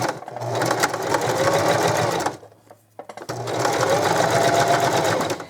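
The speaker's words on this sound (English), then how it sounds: "So now we're going to go to the sewing machine." A sewing machine runs in two steady bursts of rapid stitching, pausing briefly in the middle, close and fairly loud.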